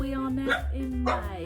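A dog barks twice in quick succession, loud and close, over someone talking.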